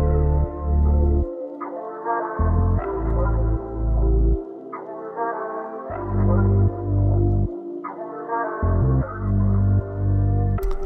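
Synth bass pattern run through an RC20 preset with added noise and digital distortion, a vintage-style R&B beat element: loud, repeating phrases of sustained low notes with small passing notes, pausing briefly between phrases, no voice.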